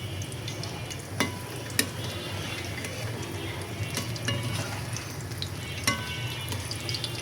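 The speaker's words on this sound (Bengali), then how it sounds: "এই যে আলুর চপগুলো ভেজে নিচ্ছি, এক পিঠ হয়ে গেল, এখন উল্টিয়ে দিচ্ছি।" Potato chops frying in hot oil while being flipped, a steady dense sizzle with a low hum underneath and a few sharp utensil clicks against the pan, close up with no voices.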